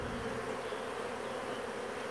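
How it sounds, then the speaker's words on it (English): A honey bee swarm buzzes around a hive box, a dense, steady close-up drone of many wings that holds level throughout with no voices. "There's still a few bees flying around the area, but the rest of them are going right inside that box."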